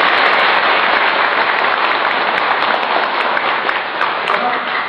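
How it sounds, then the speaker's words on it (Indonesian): Audience clapping at a religious talk, a dense, steady wash of many hands at close range, loud and unbroken for about five seconds, with no talk over it. "Tepuk tangan dulu."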